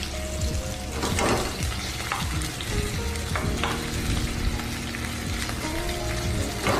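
Ingredients sautéing in cooking oil in a pan for a marinara and chicken pasta, a steady loud sizzle with stirring scrapes and clatter running throughout, no talking.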